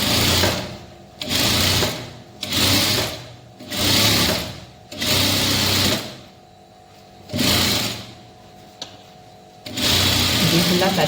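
A sewing machine stitching thread piping, running in several bursts of steady rapid whirring separated by short pauses, close and loud.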